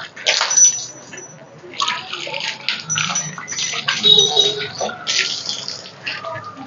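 Fresh water splashes and pours in uneven bursts during a bath, close and fairly loud, with a voice talking intermittently.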